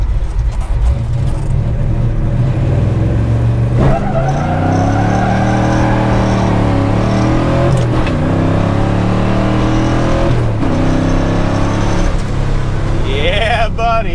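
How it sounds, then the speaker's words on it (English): A 1961 Pontiac Catalina with a 421ci V8 and 4-speed revs loudly while warming its tires, the engine climbing and dropping through repeated rises, with faint tire squeal near the end. "So first thing we're going to do is warm up the tires a little bit."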